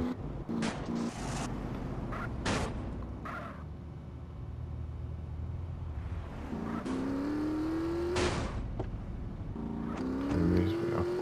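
A motorbike engine in GTA San Andreas Definitive Edition, revving and accelerating with rising pitch while riding, punctuated by sharp bursts and impacts, fairly loud and close throughout.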